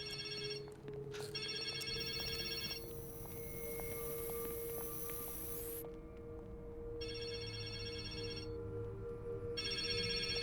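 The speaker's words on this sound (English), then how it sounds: "Oh, just answer the damn phone!" A telephone rings repeatedly in a Resident Evil video game scene, bursts of electronic ringing separated by short pauses over a steady low background hum, with no talking.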